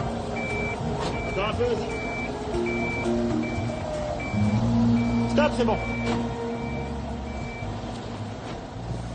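Regular, evenly spaced reversing beeps from a tow truck, heard over the rumble of its idling engine, while people talk and give directions close by.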